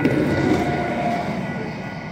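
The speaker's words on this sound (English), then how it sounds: "A southbound train to Terminal 2, Humphrey Station." A Metro Transit Blue Line Siemens S70 light rail train rumbles steadily from inside the car, a continuous low roar with a faint whine and no distinct clacks.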